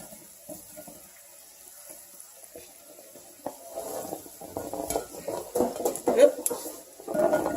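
Shrimp and asparagus sizzling in a pan, soft crackling and spattering that grows busier toward the end, mixed with stirring clatter and utensil scrapes.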